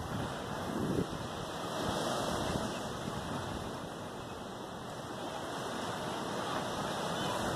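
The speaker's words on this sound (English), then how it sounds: "Waves are choppy." Choppy Gulf waves break on a Florida beach near Destin, a dense, steady roar of surf with wind buffeting the microphone and a brief louder gust near the start.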